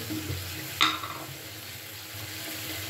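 Flat beans are stirred in an uncovered pan after their cooking water has dried off, giving a soft steady scraping sizzle with one sharp clink of the utensil against the pan.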